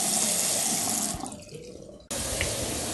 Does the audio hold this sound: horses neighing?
no